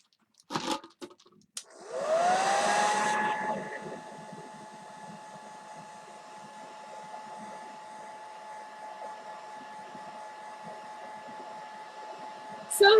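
A hair dryer switches on after a few knocks and handling sounds, giving a loud burst of blowing that settles into a steady whine and airflow. It is close by and keeps running to the end with no talking.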